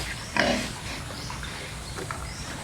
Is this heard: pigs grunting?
yes